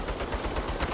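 Turret gunfire rattles in Saints Row as a rapid, steady burst of shots fills the whole second, loud and close with no talk.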